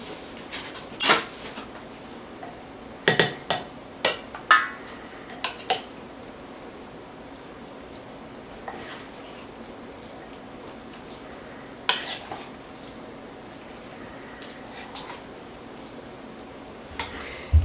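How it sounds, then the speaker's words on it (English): A spoon stirs steak chili in a metal pot, giving scattered clinks and scrapes against the pot at irregular intervals, close but fairly quiet, over a low steady background hum with long gaps between sharper knocks. "I'm just going to stir this a little bit"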